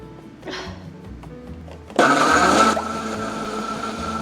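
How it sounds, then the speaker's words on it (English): A kitchen blender whirs on for a short burst blending pears and an onion for a Korean marinade, loud and close, then settles to a lower continuous hum after faint clatter and handling noises. "I just blended up some pears and an onion"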